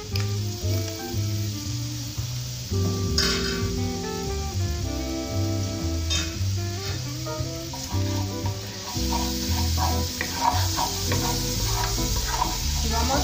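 Garlic and pepper sizzle in a pan where chicken breasts were just seared, a steady soft frying hiss with a few stirring scrapes, heard beneath background music.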